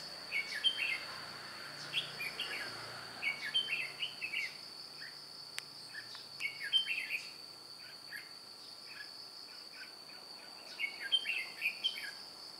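Red-whiskered bulbul in a trap setup sings repeated short chirpy phrases in bursts, moderately near, over a steady high insect drone like crickets, with no talk.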